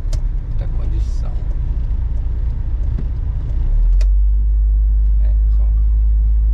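Road traffic on Rodovia Raposo Tavares near Araçoiaba da Serra: a steady, close, low engine rumble that deepens and grows heavier partway through, with voices talking over it.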